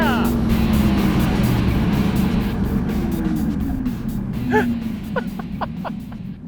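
A Ford F-150 Raptor R accelerates at full throttle, its engine roaring loud and close with rising tones, followed by short sharp shifts or revs toward the end, with voices faintly beneath.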